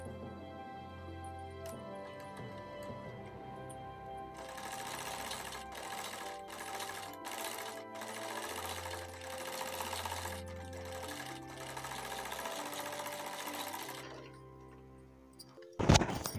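Sewing machine stitching a bias binding strip onto the neckline of a ladies' suit, running in several steady bursts with short pauses between, close and fairly loud, with no talking.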